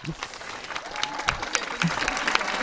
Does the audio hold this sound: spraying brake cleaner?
no